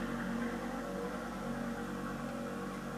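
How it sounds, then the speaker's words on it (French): A car drives up outside, a steady engine rumble at moderate distance holding evenly throughout with no voices. "C'est une voiture qui monte."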